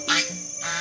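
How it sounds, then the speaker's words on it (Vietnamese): A goose gives a short nasal honk at the grounds of Tram Ba temple, two brief calls within a second, close and clear against quiet background. "Có mấy con ngỗng dễ thương á."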